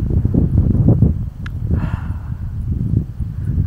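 Steady wind blowing by an icy bay on the Tazheran steppe shore, a continuous low rushing and buffeting against the microphone with no other sounds.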